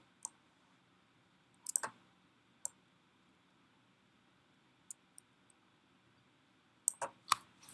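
A computer mouse clicks during work in graphic design software. The sharp, faint clicks are sparse and come singly or in quick pairs, with silence between them and no voices.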